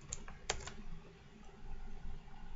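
Quick, faint taps of a computer keyboard as a short command is typed, a few light clicks close by over quiet room noise.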